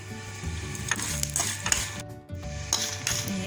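Green grams roasting in a dry pan on the stove, giving a soft crackling sizzle with scraping and stirring clinks against the metal, steady and fairly quiet with a brief lull midway.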